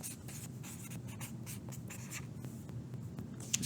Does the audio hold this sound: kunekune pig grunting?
no